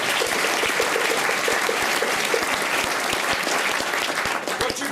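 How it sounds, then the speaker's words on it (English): An audience at a Maori welcoming ceremony applauds the visiting chiefs, a dense, steady round of clapping with some sharper individual claps standing out, sustained throughout. "How about a round of applause for them?"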